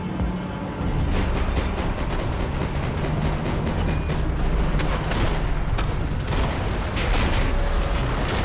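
Rapid bursts of gunfire from the Max Payne 3 video game, loud and dense, with repeated sharp shots over a continuous rumble that runs for several seconds.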